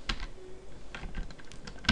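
Quick keystrokes on a computer keyboard as a copy command is entered, a few sharp clicks in short bursts, close and clear with no talking.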